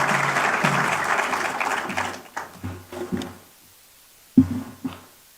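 A congress audience of the Savings & Credit Cooperatives Association in Naivasha claps for the Cusco board leadership, with dense applause for about two seconds that thins into a few scattered claps and knocks.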